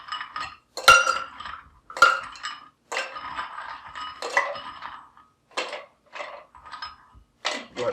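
Pieces of ice dropped one after another into a metal cocktail shaker tin, giving a series of sharp, close clinks and rattles spaced irregularly with brief pauses between.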